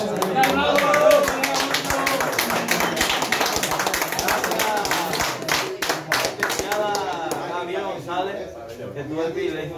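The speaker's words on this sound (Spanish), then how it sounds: "Quiero pedir un aplauso bien fuerte para todos los colegas músicos que están tocando aquí." Audience applause for musicians at a live show, dense and steady throughout with scattered sharp claps, a voice briefly rising over the clapping partway through.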